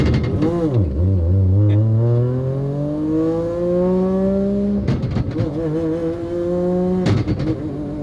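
A car fitted with a race transmission accelerates close by on a street, the engine note climbing steeply through the gears with sharp drops at each shift, a loud rising whine followed by quick rev breaks.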